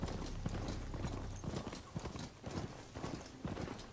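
Rapid clip-clop hoofbeats of a ridden machine mount in the video game Horizon Forbidden West, a steady galloping rhythm close up and loud, running throughout with game ambience underneath.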